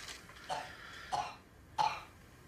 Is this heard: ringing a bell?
no